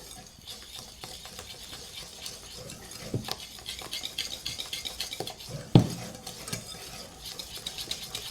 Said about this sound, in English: I'm just going to whisk it into my cream